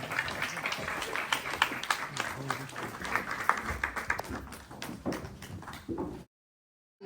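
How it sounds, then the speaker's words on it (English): Audience applause at a South Asian Heritage in Wales event: a crowd claps in a dense, uneven patter for several seconds, moderately distant, with some voices mixed in, then stops abruptly. "I need a big round of applause, guys."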